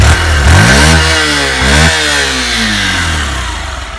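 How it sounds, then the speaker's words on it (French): A 2017 Honda CB125F motorcycle, started with its electric starter, catches right away. It revs up twice in quick rising sweeps, then settles to a steady idle. The engine is close and loud, with no talking. "démarreur électrique."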